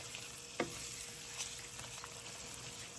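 Shrimp curry pasta being stirred in a pot, with a steady soft sizzle and bubbling plus a few light scrapes and knocks of the spoon, close and low in level, with no voices.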